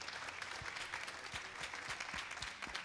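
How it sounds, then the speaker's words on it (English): Audience applause at a tech camp presentation, a steady dense wash of clapping from a hall full of people, moderately loud and continuous throughout with scattered sharper individual claps. "Let's give him a round of applause."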